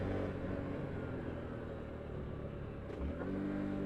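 A 2024 Honda Trail 125 motorcycle engine drones continuously while riding with no tachometer, a steady mid-pitched rumble under wind noise with a slight shift in tone near the end.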